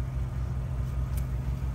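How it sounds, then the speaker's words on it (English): A 2021-2022 Ford Bronco engine idles steadily as a low, faint rumble, continuous and unbroken with no voices over it. "So I do have the vehicle on. Sorry about the extra noise."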